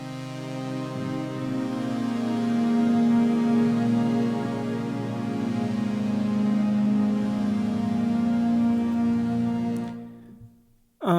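A warm, sustained ambient pad from the free Serenity VST synthesizer, holding a slowly evolving chord, steady and fairly loud, then cutting off abruptly near the end.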